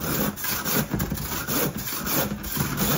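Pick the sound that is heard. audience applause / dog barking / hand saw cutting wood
hand saw cutting wood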